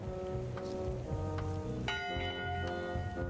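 A ship's bell aboard a pirate ship in the video game Return to Monkey Island rings with a clear metallic clang, its tone sustaining over a soft, steady background bed of ambient noise.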